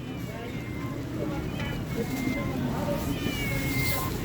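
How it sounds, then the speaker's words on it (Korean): A battery toy doll at an outdoor flea market gives repeated electronic cat meows over steady crowd murmur and background voices. "고양이 소리가 난다 했더니 여기서 인형에, 인형이 인형에서 나네요 소리가"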